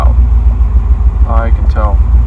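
Duramax diesel truck engine idling roughly, a loud, close, uneven low rumble that wavers throughout, with brief bursts of speech over it.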